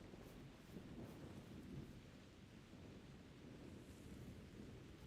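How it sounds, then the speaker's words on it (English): Thunder rumbling through a lightning storm in theHunter: Primal, a low, steady roll with rain and wind noise beneath it, heard alone and fairly faint. "Could have been just that lightning."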